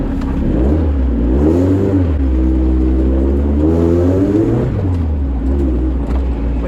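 A Vauxhall Nova's engine revs up and down through several rising and falling sweeps while driving on its maiden run. The loud, close, continuous drone has no talk over it.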